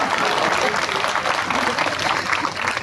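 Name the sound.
crowd clapping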